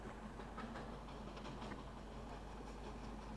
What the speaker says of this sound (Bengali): ট্রেন চলছে তো চলছেই, একটু স্লো।